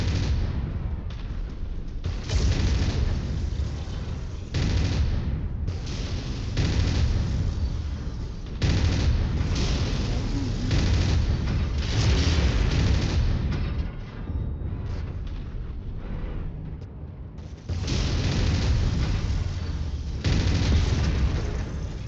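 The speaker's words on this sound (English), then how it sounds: "That ammo went up faster than Duncan Fisher's career as a mech warrior" Ammunition explosions and booming blasts in the mech combat game MechWarrior 5, with repeated heavy bursts layered over a dense rumbling battle din and no voices.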